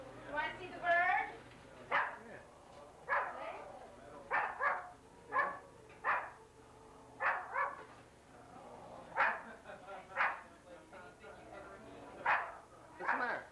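A pet dog at a family Christmas gathering in the early 1990s gives repeated short barks and yips in an uneven rhythm, close by, with people talking in between.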